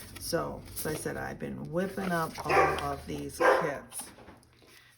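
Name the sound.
dog barking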